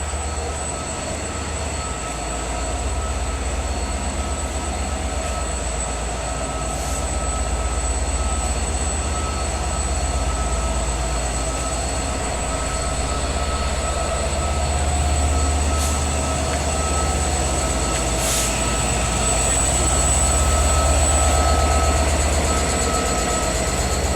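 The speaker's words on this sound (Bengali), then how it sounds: "এটা হচ্ছে ট্রেনের ইঞ্জিনের জয়েন্ট, আর এটা ট্রেনের ইঞ্জিন।" A train engine idles at the end of a rail line, its steady low rumble and mechanical hum running continuously and fairly loud, with a few faint higher clanks or squeals now and then and no talking.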